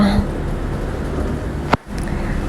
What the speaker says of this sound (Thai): ฝนตกอยู่ด้วยจ้าพี่น้องตอนนี้นะ ได้ยินเสียงฝนบ่จ้า